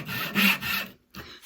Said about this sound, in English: I'm going to use 2 fingers and the knuckle of these 2 fingers to keep the saw in place and gently push away